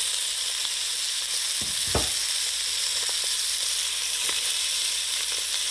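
Pot roast sears in a hot pan, oil sizzling and spitting in a steady, loud crackle with occasional soft clunks of the meat or utensil, and no talk.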